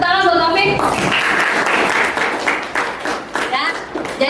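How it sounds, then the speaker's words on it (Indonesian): Audience applause in an Indonesian school classroom: a burst of clapping rises after a brief voice and continues at moderate loudness for several seconds, thinning toward the end. "Tepuk tangan buat Wafik."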